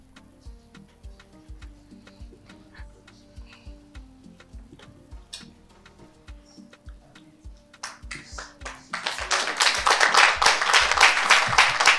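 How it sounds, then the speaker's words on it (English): Scattered light taps and clicks give way to a burst of people clapping in a news broadcast, the applause swelling loud and dense over the last few seconds. "I don't know why these people are clapping."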